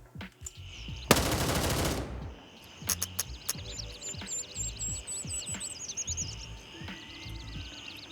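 A worn-out M4A1 rifle in Gray Zone Warfare fires one rapid burst lasting about a second, followed by a few separate single shots, while crickets chirp and buzz steadily in the background.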